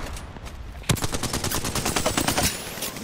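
A video game's EVA-8 auto shotgun blasts in rapid succession. After a brief quieter lead-in, loud, sharp shots repeat quickly and evenly for about two seconds.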